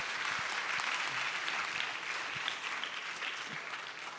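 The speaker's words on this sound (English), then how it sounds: "if you could all join me in giving a round of applause of thanks to our wonderful guests today" Steady applause from an audience at an evening event with university guests at NIST International School, dense clapping sustained throughout at even loudness with no talk over it.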